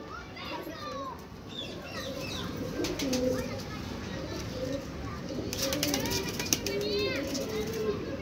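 Soft cooing of pigeons mixes with children's voices and chatter nearby, with a few brief bird calls over steady background noise.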